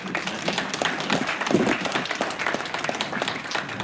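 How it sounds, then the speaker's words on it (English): Audience applause for judges at an innovation challenge event, a continuous burst of crowd clapping filling the room, fairly loud and even across the whole moment. "So thank you to all our judges. One more round of applause."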